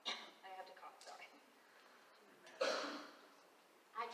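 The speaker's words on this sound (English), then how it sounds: "I have to cough" A couple of sharp coughs cut through a quiet room, the second louder and raspier, after some soft speech at the start.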